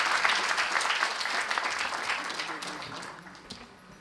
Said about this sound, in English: a huge round of applause for all the speakers and the chairperson for today's panel discussion